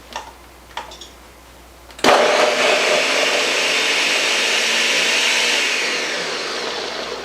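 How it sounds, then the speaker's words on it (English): Blender pureeing peeled, diced potatoes into mush: a few faint clicks, then the motor starts abruptly into a loud, steady whirring grind that runs to the end and eases slightly in the last seconds. "you're going to put them in a blender, and you're going to make them like mush"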